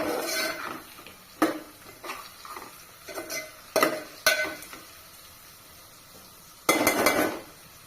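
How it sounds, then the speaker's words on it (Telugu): Ginger garlic paste fries in a pan while a spatula scrapes and clanks against the metal in scattered bursts, over a soft, low sizzle, with a longer scraping stir near the end. "అల్లం వెల్లుల్లి పేస్ట్ పచ్చివాసన పోవాలి ఒక ఒక నిమిషం అట్లా వేయించుదాం"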